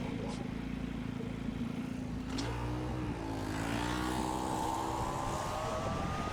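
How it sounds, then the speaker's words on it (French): A scooter passing in street traffic, its engine note climbing as it accelerates by, mid-distance and steady amid surrounding car noise and people talking. "Ouais, c'est ce scooter"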